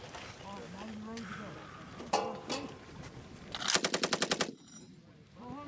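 An M240 machine gun fires a rapid six-round burst, loud and sharp, after a short single bang and a stretch of people talking. A quieter ringing tail follows.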